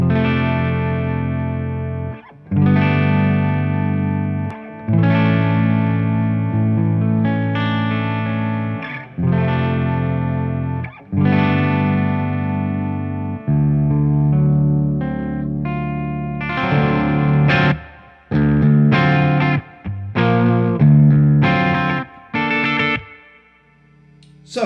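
An electric guitar runs through a Victory The Jack 180W hybrid amp, playing sustained distorted chords and riffs with chorus and echo effects, bass-heavy, loud and close, with short pauses between phrases and no talk.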